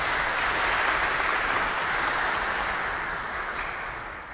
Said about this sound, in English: we will give him a round of applause when he arrives